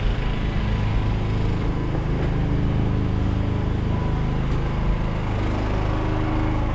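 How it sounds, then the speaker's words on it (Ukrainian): A generator runs with a steady, loud droning hum that continues unchanged throughout, at an outdoor event opening a St. Nicholas residence, with no speech. "Генератор працює."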